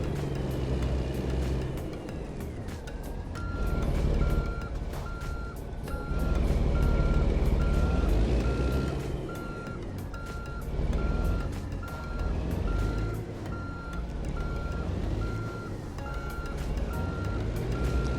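Reversing beeps from a truck backing a double-bogey trailer in American Truck Simulator, evenly spaced pulses repeating steadily over a loud, rumbling diesel engine that swells and eases, with no talking.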